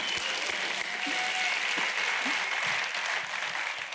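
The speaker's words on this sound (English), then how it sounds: "Can we just give God a bunch of hand clap and praise?" A church congregation claps in praise, a steady wash of many hands heard from a moderate distance, with a few faint voices mixed in.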